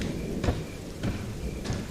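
Heavy rain during a night-time power cut outside an apartment building: a steady, dense hiss with a few dull thuds spaced through it, soft and distant-sounding.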